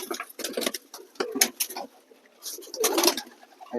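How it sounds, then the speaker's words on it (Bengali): Domestic pigeons gathered before a bath coo close by in repeated soft, throaty bursts, with brief pauses between calls. "পায়রাগুলো সব আছে।"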